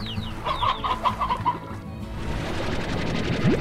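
Chickens in the video game Slime Rancher cluck in a quick run of short, bright calls near the start, then fade under a steady game ambience with a brief rising tone at the end.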